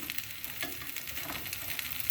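Bread toasting on a grill while making soft, juicy Turkish ızgara köfte sizzles steadily and fairly close, with faint crackles and pops. No one speaks.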